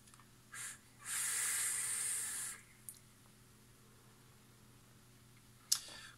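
Vapour hisses through a Badger RDA rebuildable dripping atomizer with its airflow fully open, built at 0.33 ohms and fired at 45 watts. One steady draw lasts about a second and a half, framed by a few short puffs and faint clicks, close and quiet.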